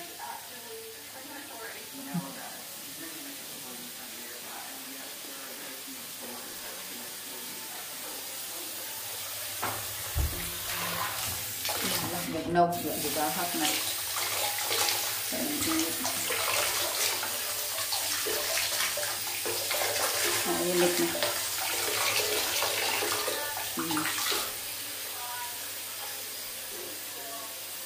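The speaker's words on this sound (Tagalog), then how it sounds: "Nindot ay shower dako. Rain kayong shower." A large rain shower runs in an apartment bathroom, a steady wash of falling water that swells from about the midpoint and keeps going under people talking nearby.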